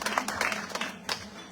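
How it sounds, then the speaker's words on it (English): An audience at a reception in Hawaii applauds briefly, a soft patter of clapping heard from a distance and fairly faint. "round of applause for everybody here in Hawaii"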